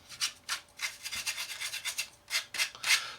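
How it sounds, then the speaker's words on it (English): A brush sweeps weathering powder off a 1/32 Trumpeter Corsair model kit in a series of soft, quick, close bristle rubs, roughly a dozen strokes in an uneven rhythm, faint and without talk. "So let's continue to brush this all off."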